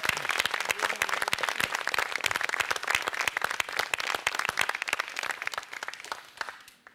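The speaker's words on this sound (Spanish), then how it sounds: "un aplauso para Augusto." Applause from a TV studio audience, dense rapid clapping that holds steady for several seconds before fading out at the end.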